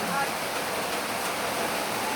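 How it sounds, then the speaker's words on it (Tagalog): Heavy, unbroken rain pours down outside a house in Bicol, a dense steady hiss filling the whole clip without pause, close and loud. "Ganyan kalakas ang ulan, walang tigil."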